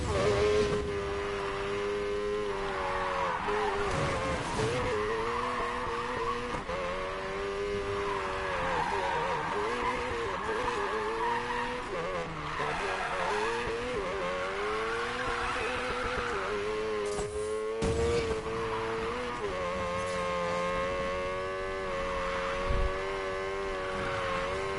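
A car drifts through a big turn in Need for Speed Payback, with a sustained, loud, whining engine roar and screeching tires running continuously throughout, with no talking.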